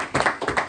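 A church congregation clapping together in acclaim of Jesus, a short burst of several quick, moderately loud hand claps in a loose rhythm.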